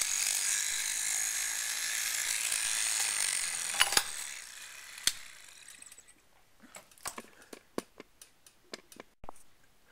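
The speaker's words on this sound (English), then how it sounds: "So when you close the switch and give the motor a push, the motor runs." A small homemade toy electric motor, its switch bent from paper clips, whirs steadily and close up, then winds down into a few scattered clicks and taps.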